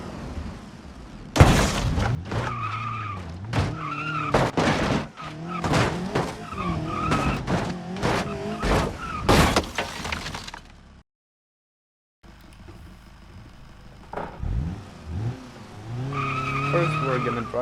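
A light street hatchback, the Ibushu Covet 1.5, is driven off-road in a video game. Revving engine tones mix with loud tire skids and bumps, broken by a short gap of silence before the driving resumes.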